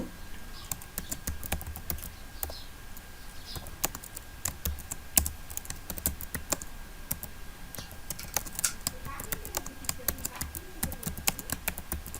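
Someone types on a computer keyboard, entering a chat message on a WordPress website, producing quick irregular key clicks, close but fairly quiet against a soft background hum.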